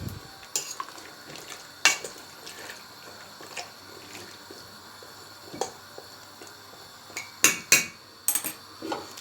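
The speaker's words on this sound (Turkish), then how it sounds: "Çatalla onu şöyle bir karıştırayım." Green beans frying in a pan, stirred with a fork: a steady low sizzle broken by sharp metallic scrapes and clinks of the fork against the pan, irregular and close, with the loudest clusters toward the end.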